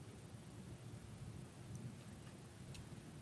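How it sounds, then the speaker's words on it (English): Steady rain falls outside, a dense even wash that fills the whole stretch, with a low thunder rumble rolling underneath at moderate, constant loudness and no voices. "It begins to rain outside."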